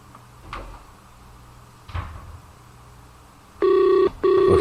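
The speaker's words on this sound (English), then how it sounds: "Okay, now it's ringing." Telephone call being placed, with a couple of soft clicks and knocks followed by two loud, close electronic ringback tones separated by a short gap.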